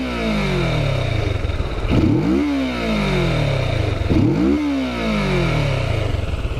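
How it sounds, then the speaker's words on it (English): A motorcycle engine with a stock exhaust idles with a low, steady rumble and is revved twice, rising and falling, fairly quiet and mellow throughout. "Listen to this stock exhaust."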